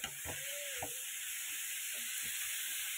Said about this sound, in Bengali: ভাজাটা হোক।